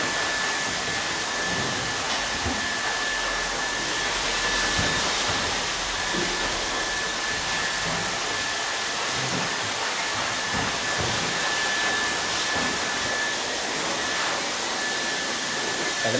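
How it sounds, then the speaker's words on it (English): A hair dryer blows continuously while drying hair, a loud, steady whooshing roar with a thin high whine that holds at an even level for the whole stretch, with no talking. "as I'm drying the hair off"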